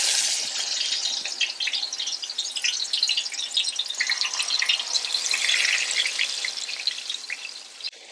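Spiced chicken pieces for a Moroccan dish fry in a pan with a steady, close crackling sizzle of spattering oil, continuous and fairly loud throughout with no talking.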